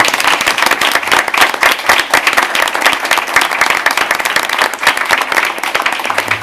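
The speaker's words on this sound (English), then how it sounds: "Let's give them a round of applause, please." An audience at a school board of education meeting gives a round of applause for high school semifinalists, loud, dense clapping from many hands lasting the whole stretch with crisp individual claps standing out.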